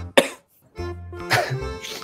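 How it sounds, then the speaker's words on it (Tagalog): A single sharp cough up close, followed by a rough, throaty coughing burst mixed with voiced sounds. "Mag-ubuhan."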